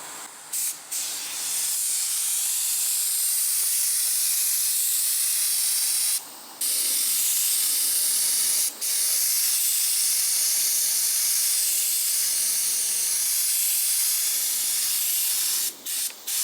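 A spray gun hisses steadily while painting a car's visor outdoors, a loud continuous spray broken by a few brief trigger releases.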